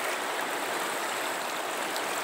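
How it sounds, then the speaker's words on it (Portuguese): The swollen Acaraú river in Sobral rushes past in fast, high flow, a steady dense roar of churning water with no breaks and no voices. "Águas correntes, caudalosas."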